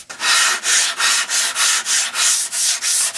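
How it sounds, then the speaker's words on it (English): The edge of a foam wing's sheeting being sanded at an angle, about a dozen steady rhythmic rasping strokes, loud and close, with no talking. "We're going to sand this at an angle"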